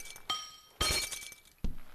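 Glass shatters in Happy Wheels, three separate sharp breaking crashes spread across the moment, each bursting loud with bright tinkling fragments before fading.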